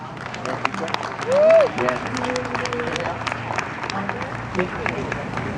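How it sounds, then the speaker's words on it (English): An audience applauds a hula halau after its performance at a Hawaiian music evening. Scattered claps mix with crowd murmur, voices and a brief rising whistle. "if you guys can, please put your hands together. Nice round of applause"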